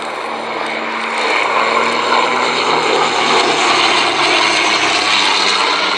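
Twin-engine de Havilland biplane flying at an air show, its loud, steady propeller drone filling the air and swelling slightly as it passes, with no talk.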